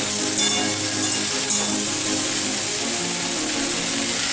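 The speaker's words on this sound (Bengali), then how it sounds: "চিংড়ি মাছগুলো দিয়ে দিলাম।" Prawns fry in a pan for a jackfruit prawn curry, giving a loud, continuous dense sizzle that holds steady throughout with faint clinks mixed in.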